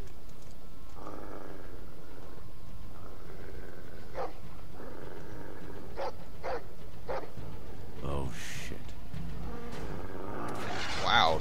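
A large dog in a Game of Thrones video game barks and growls repeatedly in short heavy bursts, loud and close, over music and game ambience, with a brief whimpering yip near the end.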